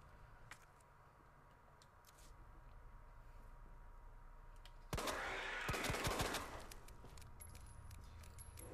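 Gunfire from a gun in Resident Evil 2 erupts midway as a dense burst of loud, rapid shots lasting over a second, over a steady game background with faint clicks before and after.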